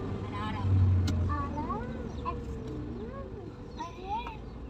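Car engine revving as the throttle is opened on a road toward Bukit Mengkirai, a steady loud motor drone with rising and falling pitch sweeps, with people talking over it.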